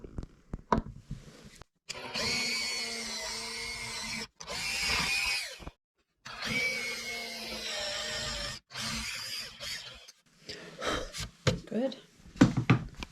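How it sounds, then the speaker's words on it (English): A power drill countersinks holes in the back of a wooden tray, several loud whirring bursts of a few seconds each separated by short pauses, with spoken talk between bursts near the end. "I'm just going to do a countersink on the back of this tray"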